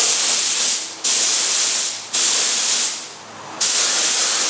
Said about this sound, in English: I'm going to give it a nice little shot of primer so that we cover up all the rust.